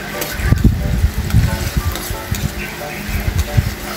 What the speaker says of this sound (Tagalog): Naglagay na nga pala ako dyan ng mantika, at ayan na nga, hinulog ko na ang bawang.